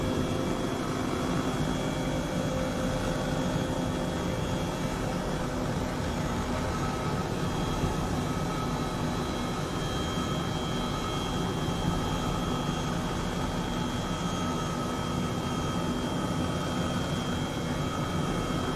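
Steady, unbroken drone and whir of a helicopter in flight in Microsoft Flight Simulator 2020, heading toward Iceland's Fagradalsfjall volcano, loud and constant throughout with no talk.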